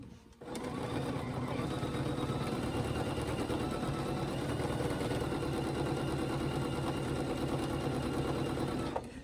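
A sewing machine runs continuously for about nine seconds, stitching a quilt block guided by a ruler, its fast, steady mechanical whir starting and stopping abruptly with no talk.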